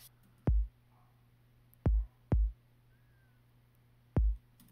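Four short, punchy kick drum hits with a tight low thump and clicky attack, played in an uneven pattern, two close together, over faint hum.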